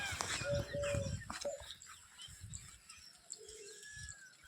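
Birds call outdoors at a temple, including soft dove-like coos and short chirps, against a steady background of rain or ambient noise.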